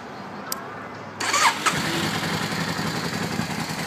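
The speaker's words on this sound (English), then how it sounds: "It starts right up." A 2003 Yamaha V-Star Classic motorcycle cranks briefly and fires up close by, catching with a loud burst and then settling into a steady, rumbling idle.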